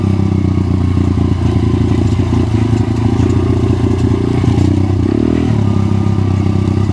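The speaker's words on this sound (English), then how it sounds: "the bike is crawling nicely" A Crossfire pit bike fitted with swapped-in big 17-inch and 14-inch wheels crawls along in low first gear on a trail, its small engine droning loudly and steadily up close with clattering and scraping over rough ground.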